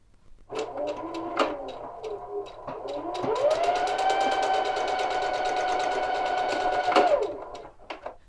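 A sewing machine runs 1/8 inch topstitching around a belt loop on a tie jacket, its motor whirring in short bursts and then in one long, steady, sustained run before stopping.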